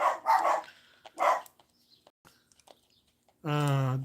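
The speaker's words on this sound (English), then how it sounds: "My dogs are triggered by something." Pet dogs barking indoors, a few sharp barks near the start followed by quieter scattered sounds and a sustained, tonal howl-like bark at the end, fairly close.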